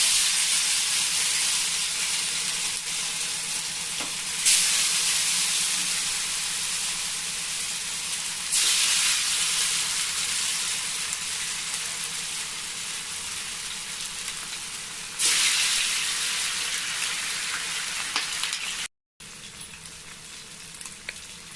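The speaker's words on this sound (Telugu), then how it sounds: "ఇప్పుడు ఆయిల్ హీట్ అయిన తర్వాత ఈ ఫిష్ పీసెస్ని ఇందులో వేసుకొని ఫ్రై చేసుకోండి" Masala-coated fish pieces fry in hot oil, a loud continuous hiss that swells sharply at several points as pieces go in or shift, broken by a brief cut near the end.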